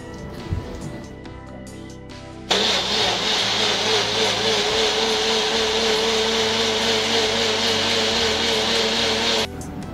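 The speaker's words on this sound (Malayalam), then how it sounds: "നമ്മുടെ യോഗട്ട് തൈരും പുതിനയിലയും മല്ലിയിലയും കൂടെ ചേർത്ത മിശ്രം 2 തവണയായിട്ട് ഞാൻ അരച്ചത്" A mixer grinder whirs loudly and steadily for about seven seconds while blending yogurt with mint and coriander leaves for an avocado lassi, starting abruptly after quiet kitchen sounds and cutting off at the end.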